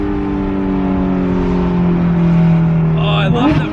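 A Porsche 991.2 GT3 RS engine revs hard from inside the cabin, a loud sustained buzzing exhaust rasp that climbs steadily in pitch, then briefly drops and surges again before the clip ends.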